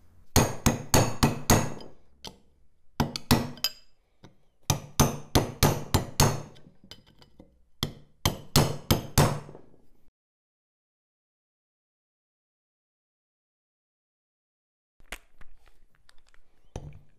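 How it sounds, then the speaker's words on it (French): A hammer strikes a chisel to flatten metal while wheels are taken apart on a café racer motorcycle, ringing out in quick sharp clusters of blows with short pauses, then a long silence before a final burst of strikes. "Je vais donc aplatir ceci avec un marteau et un burin afin de pouvoir desserrer les écrous avec une clé de 14"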